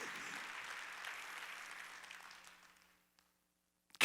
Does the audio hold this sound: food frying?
no